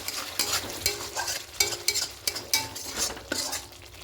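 Garam masala powder being stirred into an egg curry frying in a pan, a spoon scraping in repeated strokes over a steady close sizzle.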